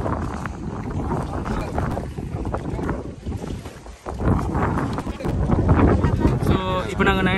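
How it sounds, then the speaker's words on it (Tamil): A boat arrives on open water near Jaffna, its rumbling motor mixed with gusty wind buffeting the microphone and lapping water, loud and continuous while people talk. "இன்னும் கொஞ்ச நேரத்தால் அந்த போட் வரும் எங்களை கூட்டிட்டு போறதுக்கு."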